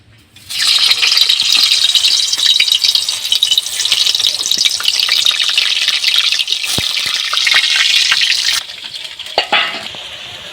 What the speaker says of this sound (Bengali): তেল গরম হয়ে গেছে, এবার আলুগুলো দিয়ে ভাজা করে নেব।